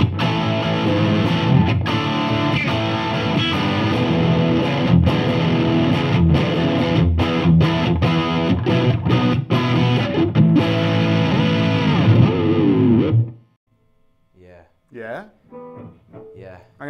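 Distorted electric guitar played through a Helix LT and Headrush rig rings out loud and dense with chords and rhythmic chugs, then cuts off abruptly, leaving a few quiet voices talking.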